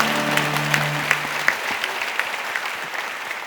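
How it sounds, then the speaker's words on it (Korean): Congregation applauding at a prayer meeting, many hands clapping steadily after a sung hymn, whose last held note fades out at the beginning while the clapping continues, fairly close and full. "우리 하나님께 영광의 박수 올리겠습니다."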